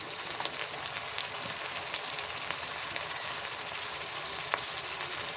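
Garlic paste and salt hit a hot pan of koi fish, and a loud, steady, dense sizzle fills the whole stretch with no pauses and no talk over it.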